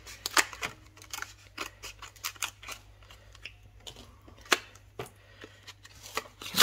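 Scissors snip through a package of Finnebar red umber icing paste, giving a series of faint, irregular close-up cuts and crinkles against a low steady hum.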